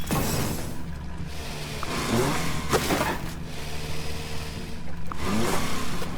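A tractor engine in the farming video game Farm Together revs steadily, swelling and easing in a few repeated surges against constant engine drone, with no talking.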